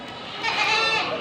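Goats at a crowded livestock market, a short, close, wavering bleat rising out of a low murmur of background activity.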